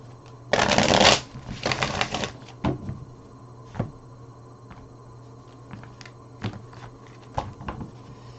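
Tarot cards are riffle-shuffled twice in quick, dense bursts, followed by scattered soft taps and flicks as the deck is handled and cut, close and fairly quiet.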